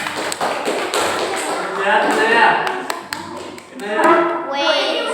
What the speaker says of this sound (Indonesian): tepuk tangan bertiga